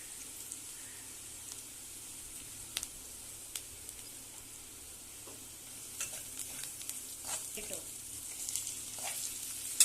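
Onion browning in a pan with salt added, a quiet crackling sizzle broken by clinks and scrapes of a spoon stirring, growing livelier toward the end, heard up close and alone.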